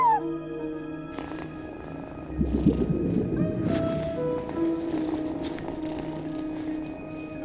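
A cat purring in the video game Genshin Impact, a soft rhythmic rumbling purr swelling in the middle under game music tones, moderately close.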